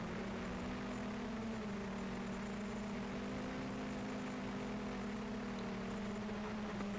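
A small MJX Bugs 3 quadcopter drone flies into the wind, its steady whining propeller hum holding close and constant with slight pitch wavers throughout, no voices.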